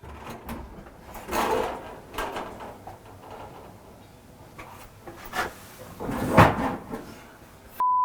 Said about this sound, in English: You've only got to open the door.